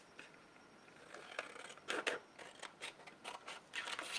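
Scissors cut paper close by, giving a quiet run of soft crisp snips, some single and some in quick bursts.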